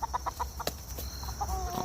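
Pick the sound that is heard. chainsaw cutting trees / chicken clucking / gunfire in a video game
chicken clucking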